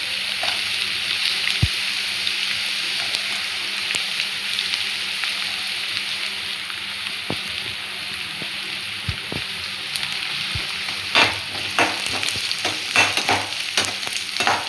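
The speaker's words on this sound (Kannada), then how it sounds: "ಇವಾಗ ಈರುಳ್ಳಿ ಬೇಯ್ತಾ ಇದೆ." Chopped onion and garlic fry in a pan for gobi manchurian, a loud, steady sizzle close by, broken now and then by the clack and scrape of stirring.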